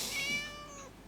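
A cat gives a single drawn-out meow in a German-language tutorial on videotape, fairly faint and fading over about a second with no talk.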